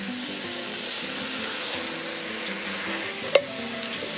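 Lamb pieces being stirred with curry paste in a cooking pot, giving a steady soft sizzling, wet stirring texture throughout, with one brief sharp clink of a utensil near the end.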